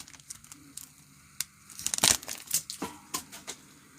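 Foil wrapper of an NFL trading card pack is torn and crinkled open during a box break, with sharp close rips and crackles in uneven bursts.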